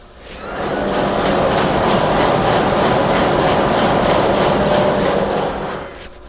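A ship's main engine running in the engine room, a loud, dense, continuous mechanical roar with a rapid regular pulsing beat, heard close up without talk.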